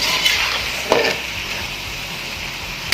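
Kachnar keema being browned with yogurt in a pan, giving a constant close sizzle with one brief clank of a spoon on metal early on.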